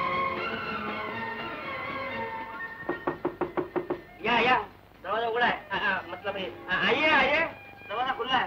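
Knocking on a door in a 1967 Hindi romantic film scene: a quick run of about eight sharp raps, then voices break in with talk over more scattered knocks and room noise.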